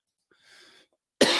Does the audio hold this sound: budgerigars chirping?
no